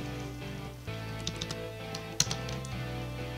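Typing on a computer keyboard at a desk while setting up a web page, with a run of close, soft key clicks and a sharper tap or two, steady and fairly quiet.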